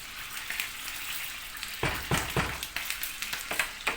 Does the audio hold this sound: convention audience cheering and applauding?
no